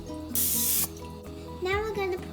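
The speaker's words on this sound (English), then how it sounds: "Second, spray some oil." Cooking oil sprayed from a can into a frying pan before pouring seafood pancake batter, a loud steady hiss of about half a second, with light kitchen sounds and a voice around it.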